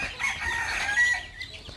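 Local-breed chickens cluck while a rooster crows nearby in Assam, a steady run of bright, strained calls with no talking.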